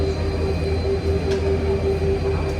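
Paris metro train riding between stations, heard from inside the carriage as a steady loud rumble of wheels on rail with a sustained whine, no voices.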